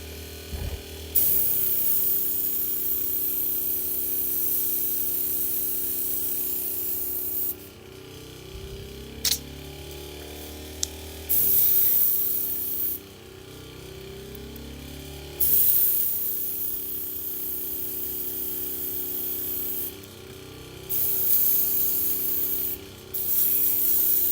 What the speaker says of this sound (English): There's something coming out of the airbrush.